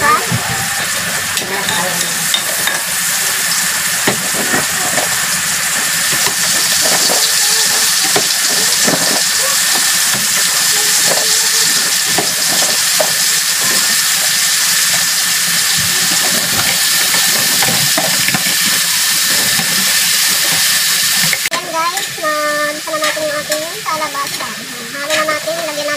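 Chunks of squash tossed into a pan with pork for Filipino ginisang kalabasa hiss and sizzle in a steady, loud fry, with stirring scrapes throughout and a voice speaking over the cooking near the end.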